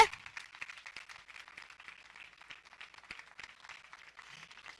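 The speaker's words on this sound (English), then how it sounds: "You can keep clapping until he gets here" An indoor audience at an evening political event keeps up steady, dense clapping and applause, fairly distant and even in level throughout, with no voices standing out.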